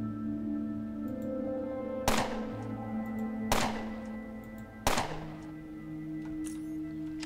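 Three sharp gunshots in the Underrail video game, evenly spaced over a few seconds, each a hard crack with a short decaying tail over a steady humming game background, no talking.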